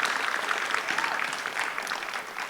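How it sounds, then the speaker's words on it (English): An audience bursts into a sustained round of applause at a panchari melam arangettam, many hands clapping steadily at moderate loudness with a few faint voices mixed in. "Please give yourself a big round of applause for that."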